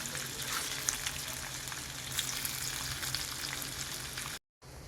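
Paneer pieces shallow frying in hot oil give off a steady, dense sizzle and crackle that holds evenly throughout, cut by a brief dropout near the end before resuming.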